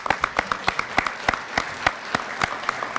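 At a chamber of commerce annual meeting, a sparse handful of people clap for the project team, distinct individual claps ringing out sharply in an uneven rhythm.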